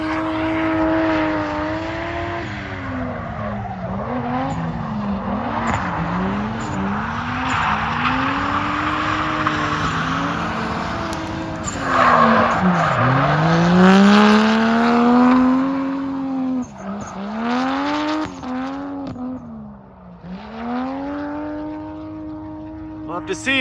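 A car drifting at Willow Springs racetrack, with the engine rising and falling in pitch and long tire squeals through repeated slides, loud and sustained with the car nearby.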